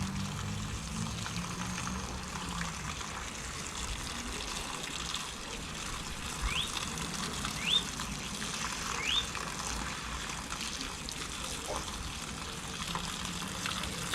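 Hose water rinsing a K&N air filter, a steady soft hiss and splatter of spray continuing throughout, fairly faint and with no talking.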